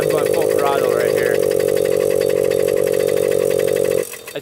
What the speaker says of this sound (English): So I'm going full throttle right here.